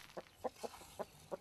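Chickens on a remote biostation farm clucking in five short, evenly spaced bursts, soft and somewhat distant over a quiet outdoor background.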